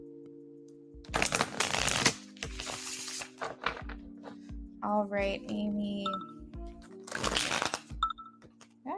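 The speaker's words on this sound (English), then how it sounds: "that was a horrible shuffle" Tarot cards are shuffled in a few rough riffling bursts, close and crisp, with a hum running underneath and a voice speaking briefly between the shuffles.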